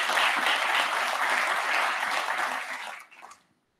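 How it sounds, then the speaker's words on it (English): Audience at a conference opening clapping for the event sponsors, dense applause that fades out after about three seconds. "Could we have a round of applause for our sponsors?"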